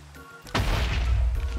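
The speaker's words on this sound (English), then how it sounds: "It's a very, very small little explosion." A small TNT explosion goes off in a Minecraft ore TNT mod, a sudden booming burst that cuts in after a quiet moment and then rumbles on loudly with a crackling tail.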